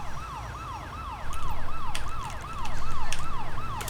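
A wailing ambulance siren in the video game GTA V sweeps up and down in a steady repeating cycle, loud and close, with faint clicks and rumble underneath; no one speaks.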